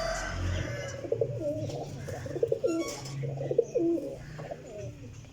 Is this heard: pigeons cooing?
yes